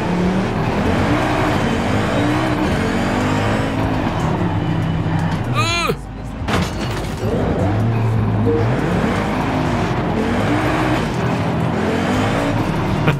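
Car driving in Forza Horizon 5 at an Audi meetup, a continuous engine drone with a brief tire squeal partway through, while someone talks over it.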